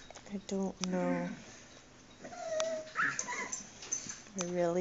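A family dog whimpers and yips in short high-pitched bursts indoors, nearby and fairly clear, with people talking around it.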